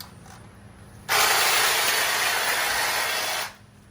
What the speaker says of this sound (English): the hedge trimmer that I'm using here is the RHT 3600G, which is a 36 volt hedge trimmer